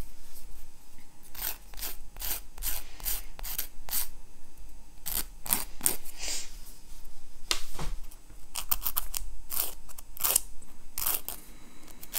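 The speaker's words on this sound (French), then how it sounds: "Je lime." Fingernails being filed with a nail file up close, with repeated short rasping strokes in quick bursts separated by brief pauses.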